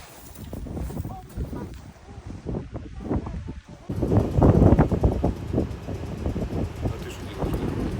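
Strong gusty wind buffeting the microphone outdoors in Washington State near a ferry, a rough steady roar that swells partway through, heard under someone speaking.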